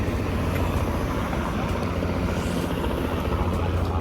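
A helicopter flying over a park in Toronto, a steady rumbling rotor chop that stays loud and continuous throughout, with no voices.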